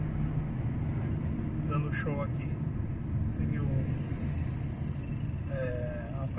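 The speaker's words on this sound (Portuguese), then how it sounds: "Aí a Esquadrilha da Fumaça, esse barulho que vocês estão ouvindo está" Brazilian Air Force Smoke Squadron aircraft fly over during an air show above a crowded square in São Paulo, their steady, distant roar running beneath continuous talk.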